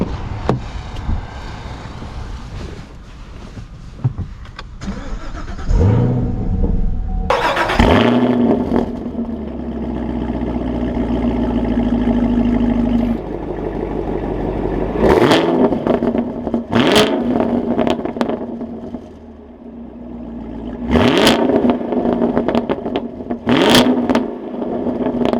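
A Chevrolet Camaro SS 1LE with a manual gearbox starts up with a loud rev, then settles into a steady idle and drives off, with gear changes and rising engine pulls toward the end.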